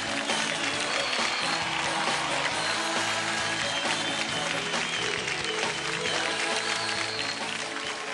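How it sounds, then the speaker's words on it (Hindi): A studio audience on a children's singing competition show applauds young singer Barnali Hota, a dense, continuous wash of clapping that holds steady and fairly loud for the whole stretch, with other sound blended in. "जोरदार तालियां।"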